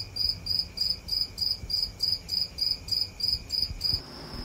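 Crickets in a cricket-raising container chirp in a steady run of about a dozen evenly spaced pulses, close and clear with no talk.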